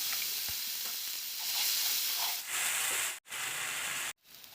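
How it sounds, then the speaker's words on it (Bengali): Dried chillies and onion-garlic paste frying in hot oil for a Bengali yogurt fish curry, a steady loud sizzle and hiss that swells after about two seconds, broken by two brief silent cuts near the end. "দিয়ে দেব গোটা কয়েকটা শুকনো মরিচ, দিয়ে দেব পেঁয়াজ রসুনের পেস্ট"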